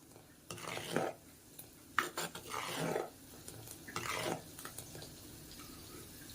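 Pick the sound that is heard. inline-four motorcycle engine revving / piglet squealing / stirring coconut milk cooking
stirring coconut milk cooking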